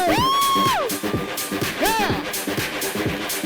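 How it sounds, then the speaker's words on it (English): Crowd at a leadership event cheering and whooping for club owners, a steady wash of shouts and whistles from many people at close range with no break, mixed with a loud voice calling out over the top. "Massive round of applause for all you club owners!"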